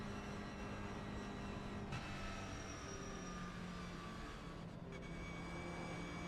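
An engine drones steadily while a car drives in a video game, a continuous low rumble with shifting tones and brief changes in pitch, fairly quiet and with no talking.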